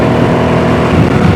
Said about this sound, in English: we open the throttle